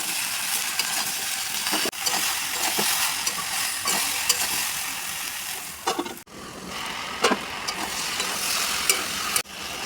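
Okra and potatoes fry in a pan with tomato, green chilli and spices, giving a loud, steady close-up sizzle broken by repeated scraping stirs and a few clacks of the utensil.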